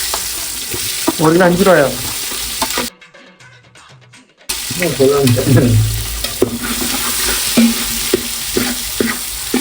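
Onions fry in a pan for fish masala, giving a busy sizzle with stirring scrapes. A voice talks over the cooking, and there is a short silent gap partway through.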